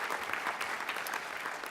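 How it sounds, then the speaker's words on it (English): A luncheon crowd at a city livability celebration in Dallas applauds steadily, a dense wash of clapping that holds at an even level throughout with no voices standing out. "Let's give them a round of applause again"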